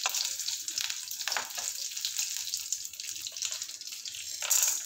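Asafoetida dropped into hot oil in a pan for a Tamil amla kulambu, giving a steady close crackling sizzle with bright hiss and small popping bursts throughout, no voices.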